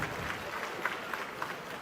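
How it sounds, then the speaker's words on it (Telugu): Audience at a political meeting in Chirala clapping, a continuous patter of applause from a crowd with sharper claps standing out, fairly close and steady for the whole moment. "ఆర్డీఓ ఆర్ఓఆర్ బాగా చేసిన గట్టిగా చప్పట్లు కొట్టి అభినందించండి"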